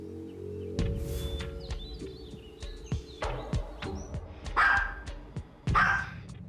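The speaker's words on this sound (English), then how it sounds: "We don't know what else to do with this dog." A problem dog that has been biting its owners barks in short sharp bursts indoors, several loud barks in an uneven rhythm, with some high yips among them.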